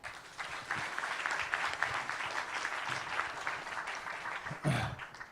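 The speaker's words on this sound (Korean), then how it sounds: "박수로 모실게요" An audience at a venture forum applauds to welcome the chairman, a continuous spread of clapping with distinct individual claps standing out at moderate volume, ending in one sharp louder burst.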